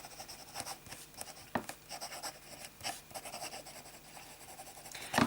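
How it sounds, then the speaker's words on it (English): A fountain pen with Visconti Blue ink writes on copier paper in soft, close scratchy strokes. The strokes come in uneven bursts and pauses, with a few sharper ticks as the nib lifts and lands. "Let's start with some fine writing."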